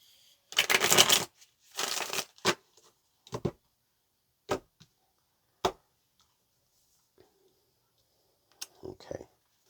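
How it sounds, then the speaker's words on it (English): Tarot cards being shuffled by hand in a few short bursts, two longer riffling passes near the start followed by sparse single snaps and taps, moderately close and otherwise quiet. "Let's go ahead and get one more shuffle."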